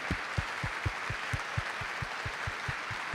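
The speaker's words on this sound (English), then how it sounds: "Please give Minister Tang a round of applause" An audience applauds Minister Tang at a civic health symposium keynote: steady, dense clapping with regular low thumps running through it, at moderate level.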